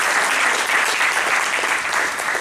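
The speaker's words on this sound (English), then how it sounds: "Let's give Peter a round of applause." An audience claps for Peter in a steady, dense round of applause, many hands together at an even level for the whole stretch, with no voices standing out.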